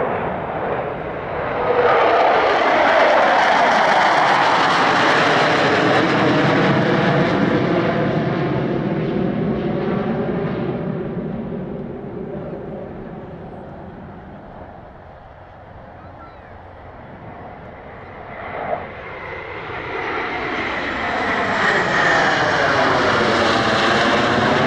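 Six propeller aircraft fly formation passes at the LIMA Langkawi airshow in 2023, a loud droning roar that swells, fades as the formation moves away, then builds again as the aircraft return overhead, with a commentator speaking over it.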